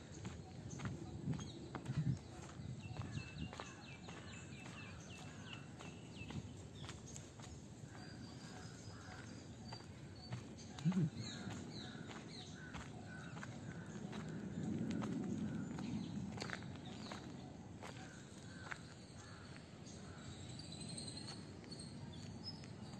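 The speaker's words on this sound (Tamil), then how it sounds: "என்னோடய காலடி சத்தம் மட்டும்தான் இந்த இடத்துல கேட்கும். அதே மாதிரி சுற்றி இருக்க பறவைகள் சத்தம்" Footsteps crunching along paths in the quiet old grounds of the Theosophical Society in Chennai, a slow irregular walking rhythm close by, with faint birds and insects chirping in the background and a voice speaking at times.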